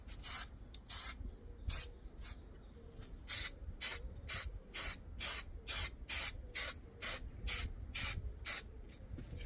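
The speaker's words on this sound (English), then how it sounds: "Shield what you don't want glued, because you will get glue all over it." Spray glue being applied from an aerosol can inside a Citroen Relay van, in about fifteen sharp, loud hissing bursts that repeat rapidly with short gaps between them.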